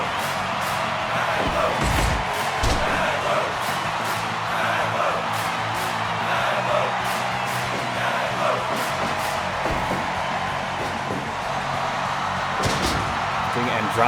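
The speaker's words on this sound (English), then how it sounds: "Double arm DDT once again as the crowd chants his name." Wrestling event crowd in a house-wrestling show, a rowdy audience chanting and cheering in a rhythmic pattern, with occasional sharp slams and thuds from the ring and a commentator talking over it.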